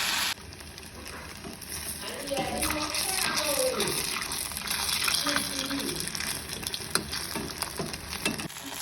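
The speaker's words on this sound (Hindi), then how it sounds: "इसे पूरी तरह से कटोरी को कवर करके लेना है और इसे तेल में छोड़ देना है।" A bowl coated in batter is lowered into hot oil for deep-frying, raising a loud bubbling sizzle that swells and stays busy, with faint voices murmuring in the background.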